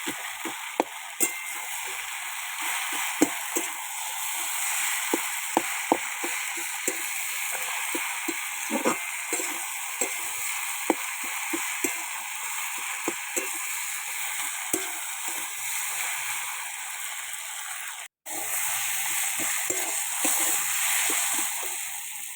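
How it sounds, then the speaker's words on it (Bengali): Rohu fish head frying with potatoes in a pan, a steady close sizzle with frequent small crackles and pops running throughout, briefly cut off near the end before resuming. "এখন আমি মাছের মাথাটা দিয়ে দেবো মাছের মাথাটা দিয়ে খুঁটি দিয়ে দিয়ে দেবো"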